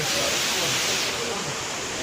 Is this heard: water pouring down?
yes